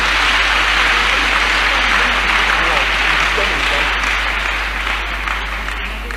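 A church congregation gives sustained applause to praise God for a woman's healing. The clapping is dense and continuous, fading slightly toward the end.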